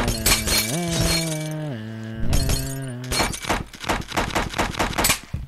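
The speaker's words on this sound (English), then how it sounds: "Turn up your sound for gunshots." Rapid bursts of gunfire in the game Happy Wheels crackle alongside music and shattering effects, loud and dense, with a short lull before heavier repeated shots.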